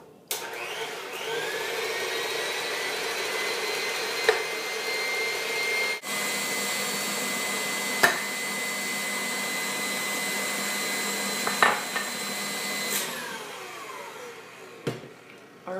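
An electric mixer whirs steadily while beating egg whites with sugar into meringue for flat chocolate meringues, a loud continuous hum near at hand with a few brief clanks and changes in pitch.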